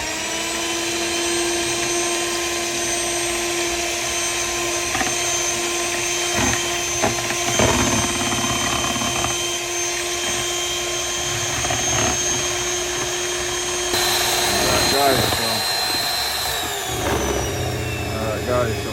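A blender churning Oreo ice cream mixture, starting on low and ramping up in speed, a loud continuous whirring motor whose pitch climbs and shifts near the end.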